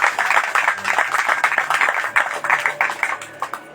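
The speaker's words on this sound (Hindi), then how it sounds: "ताली बजाते हैं।" A gathering at a Christian sermon claps together in fairly loud, slightly uneven bursts of hand claps that continue steadily for a few seconds.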